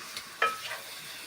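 Pork ribs and potatoes for a stew with flour dumplings are stirred in a sizzling pot, a brief close scrape with a sharp clink over a soft frying hiss.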